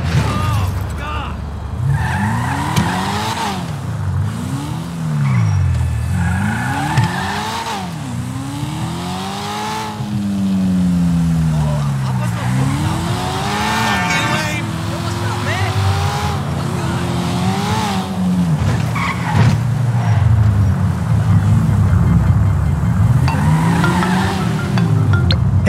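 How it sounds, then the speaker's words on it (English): Los Santos city traffic in the GTA 5 video game: a continuous street roar of car engines and tire skids, with rising and falling siren-like wails sweeping through and staying loud throughout. "And real sounds, the true sound, the never-ending sound of Los Santos."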